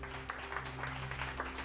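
A church congregation claps hands in a steady, rhythmic beat during a worship service, heard faint and somewhat distant.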